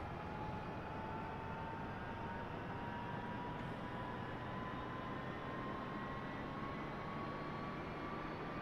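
A Huey helicopter's turbine engine starts and spins up, giving a steady, loud, broadband roar with a rising whine held throughout, alone with no voices.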